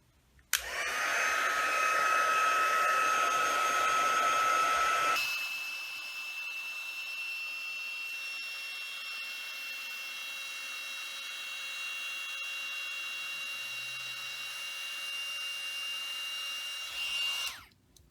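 Heat embossing tool on its hottest setting blows hot air in a loud, steady whine that drops to a lower, quieter hum partway through and runs alone until it cuts off.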